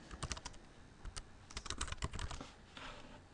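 Keys clacking on a computer keyboard as a short description is typed: a brisk, close, uneven patter of keystrokes with brief pauses, and no voice.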